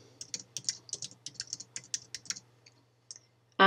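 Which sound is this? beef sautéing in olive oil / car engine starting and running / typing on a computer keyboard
typing on a computer keyboard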